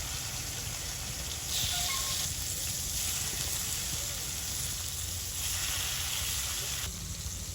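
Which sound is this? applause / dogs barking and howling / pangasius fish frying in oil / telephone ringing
pangasius fish frying in oil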